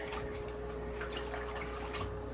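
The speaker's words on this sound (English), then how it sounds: "So this is just a weekly water change out." Water trickles and splashes steadily during a weekly water change in an aquaponics fish tank, with a faint pump hum underneath and no speech.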